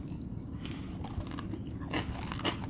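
Close, crisp crunching as someone bites and chews burnt, crunchy oil-free hash browns, a run of irregular crackly bites and chews with no talking.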